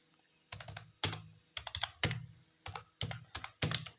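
Keys clatter on a computer keyboard while code is entered for Java relational and logical operators, arriving in quick uneven bursts of close, crisp clicks with brief pauses between them and no talking.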